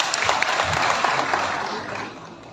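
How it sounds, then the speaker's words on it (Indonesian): Audience applause at a religious holiday aid event for Hindus, a burst of brisk clapping from a crowd that starts strong and tapers off over a couple of seconds. "Tepuk tangan lagi."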